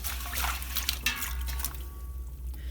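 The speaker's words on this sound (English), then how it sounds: "Give that a little mix around in that water." Water sloshes and swishes as apples are stirred around in it, close by, with soft trickling and dripping under a low background hum.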